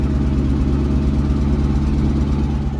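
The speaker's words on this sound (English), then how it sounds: "And then I'll let you listen to this super awesome exhaust sound." A 1967 Ford Mustang with a 289 V8 idles through its exhaust, a steady, loud, deep rumble with an even low pulse that holds unbroken for the whole stretch, with no talking over it.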